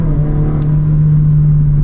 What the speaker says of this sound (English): when I'm upshifting, there's a bit of rev hang